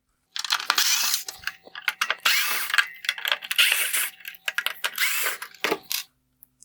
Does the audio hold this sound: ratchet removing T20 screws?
yes